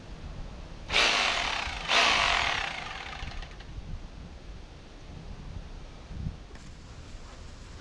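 A hammer drill fitted with a hammer bit gives two short, loud, close bursts about a second apart, then goes quiet apart from faint background rustle.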